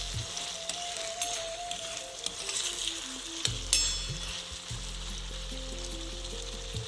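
Bitter gourd curry, karela ki sabzi, sizzles softly in a pan as it is stirred, with a clink of a utensil midway. Gentle background music plays underneath.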